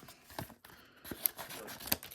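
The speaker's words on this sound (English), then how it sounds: "We'll use the scissors for this one." Several short, crisp snips of scissors cutting through packaging, quiet and close, with light handling noise between them.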